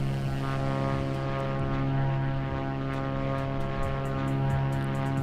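A small propeller plane in flight between Plymouth, Massachusetts and 4B6 fills the cabin with a loud, steady engine-and-propeller drone that holds an even pitch throughout, with no voices.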